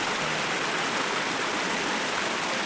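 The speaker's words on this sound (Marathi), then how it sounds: "रस्त्यात छोटे छोटे धबधबे लागतात बारीक ते वरून नौकातून पाणी येतोय" Steady broadband rush of falling water from a small roadside waterfall during the monsoon near Murud, continuous with no other sounds.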